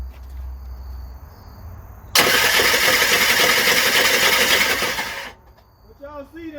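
A Dodge Ram 1500 with a V8 Hemi cranks over loudly and steadily for about three seconds without catching, then falls quiet, recorded up close in a garage-like space.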